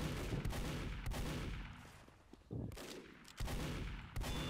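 Several sharp gunshots from a Team Fortress 2 duel crack out in quick succession. They ring loud and close over thick, continuous game noise.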